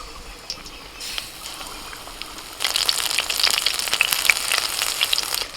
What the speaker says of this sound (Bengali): এবার একটা করে মাশরুম নিয়ে এইভাবে বেসমের ব্যাটারেতে ডুবিয়ে নেব তেল তো গরম আছে এবার তেলের মধ্যে আস্তে আস্তে ছেড়ে দেবো